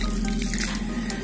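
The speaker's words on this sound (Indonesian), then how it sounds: "Jadi bakalan bonsai lantana ini kita siram jenuh ya" Water pours and drips steadily as a lantana bonsai cutting in its pot is watered thoroughly, a continuous close splashing trickle with no voices.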